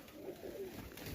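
Pigeons coo softly as they are released from a backyard loft in Melbourne on a cold, crisp morning. Low, faint murmuring calls run continuously under steady outdoor background noise.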